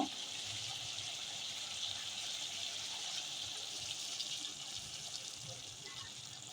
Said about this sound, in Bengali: তো এখানে আমি গরম জল অ্যাড করব।